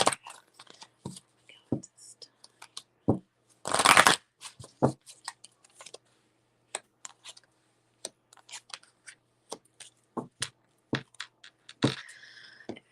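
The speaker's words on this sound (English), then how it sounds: "So let me shuffle the cards." A deck of tarot cards is shuffled during a psychic reading: scattered crisp taps and slides, then one dense riffling burst near the middle and a softer flurry at the end, close and fairly quiet.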